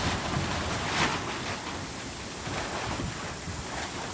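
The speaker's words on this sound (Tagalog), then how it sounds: "Grabe yung hangin, ang lakas oh." Strong gusting typhoon wind buffets the microphone in a constant loud roar beside a flooding river, with a rushing, surf-like wash underneath and no voices.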